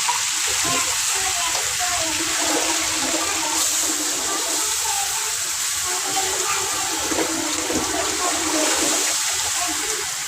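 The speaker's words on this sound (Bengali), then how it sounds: "পানি দিয়ে দেবো।" Water poured into a pan of sautéed raw banana and fried fish curry, giving a steady rushing, hissing gush that runs unbroken and fairly loud for the whole stretch, with no voices.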